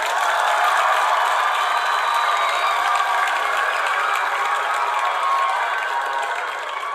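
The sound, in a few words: applause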